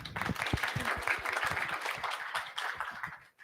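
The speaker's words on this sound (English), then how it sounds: "round of applause for him." Meet-up audience at a React and React Native event applauds a participant, a dense, steady patter of many hands clapping close by for a few seconds before cutting off abruptly.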